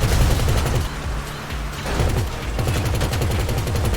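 Rapid gunfire from the video game GTA V, with dense bursts of shots in a continuous loud fusillade and no pauses.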